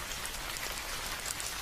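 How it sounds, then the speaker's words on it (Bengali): Rain falls in a cartoon horror scene with gusty wind outside, a dense, even patter that holds at a moderate, fairly distant level without any voices. "বৃষ্টির সাথে সাথে বাহিরে দমকা হাওয়া বইছে"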